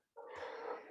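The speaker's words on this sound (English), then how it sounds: "let's take a breath together" A single deep breath is drawn in, a soft airy inhale that rises quickly and holds steady for under a second, close and quiet with no talking.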